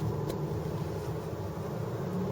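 Steady low engine hum and road rumble inside a moving 2010 Lexus RX 450h hybrid SUV running on gas power, continuous and moderately loud, with no talking.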